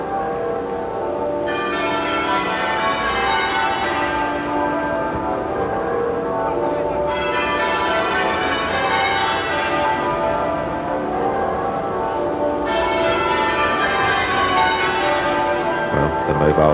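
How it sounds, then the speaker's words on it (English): Half-muffled church bells pealing at Westminster Abbey during a funeral, a continuous dense wash of ringing that swells in repeating waves, loud and sustained throughout. "the half-muffled bells still ringing"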